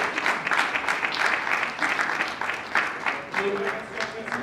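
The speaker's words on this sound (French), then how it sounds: "Acclamons l'officiel de l'état civil." Steady applause for the civil registrar at a civil wedding ceremony fills the room with a crowd's dense, continuous clapping, and voices can be heard talking over it.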